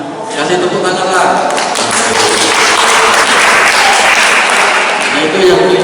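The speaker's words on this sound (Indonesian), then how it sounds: "Kasih tepuk tangan lah." Audience applause at a provincial legislator's constituency meeting in Kalirejo village hall, Central Lampung: loud, dense clapping from many people that swells quickly and holds steady to the end.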